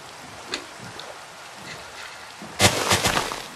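Rain in a video game: a steady light patter that turns into a louder burst of heavy rain or thunder toward the end, with no voices.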